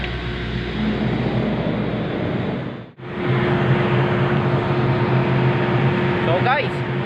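A ship's engine drones steadily in the hot lower engine room, a dense continuous mechanical hum with a brief dip midway, loud and close.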